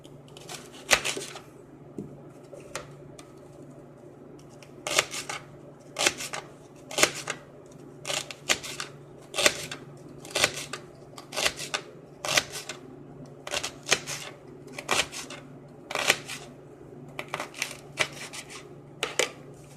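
A knife slices celery for macaroni salad, producing a series of crisp, irregular chopping clicks against a board, close and fairly clear, with no talking.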